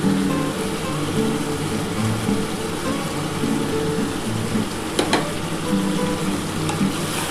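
Onion and tomato sizzle steadily in hot oil in a pan while making chilli chicken, a dense continuous frying hiss with a brief clatter of stirring midway and no talk.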